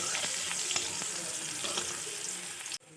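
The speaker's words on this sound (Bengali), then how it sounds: "দিয়ে তেল ফোড়ন দেবো, আর দুটো শুকনো লঙ্কা পরিমাণে দেবো" Two dried red chillies sizzling in hot oil for tempering, a dense hissing crackle with scattered pops that cuts off abruptly near the end.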